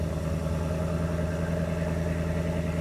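A twin-turbo Ford Mustang GT S650 running on a dyno, a steady droning engine note with a fixed low hum, heard alone and at moderate loudness for a few seconds.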